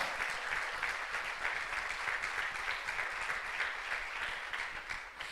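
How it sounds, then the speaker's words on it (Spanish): Steady, dense applause from a church congregation fills the whole stretch, loud and continuous with no speech over it. "¿Cuántos le aplauden bien fuerte al Señor?"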